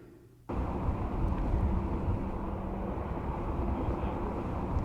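A Tesla electric car accelerating hard from a standstill, heard as a sudden onset of loud, steady broadband rushing and whirring noise that holds for several seconds after a brief quiet moment.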